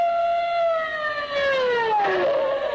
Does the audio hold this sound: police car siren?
yes